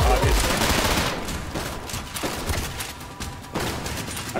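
SMG gunfire in the shooter Trepang2, a dense rattle of rapid shots with bursts of impacts across the clip, loud and close over a busy game soundscape.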